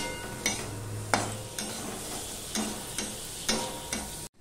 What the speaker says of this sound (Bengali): সম্পূর্ণটা মিশিয়ে নিয়ে আমি ভাজতে থাকবো।